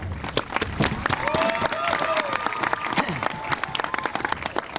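Audience applause at a school ceremony honoring a 2015 Blue Ribbon school, steady dense clapping filling the room throughout, loud and continuous with scattered cheering and a voice over it.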